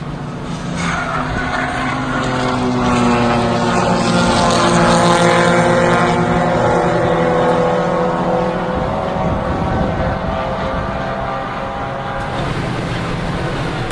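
Audi TT 225 race cars running on track during a MARRS club race, engines droning loud and steady as cars pass close by, pitch rising and falling with a sustained roar and no talk.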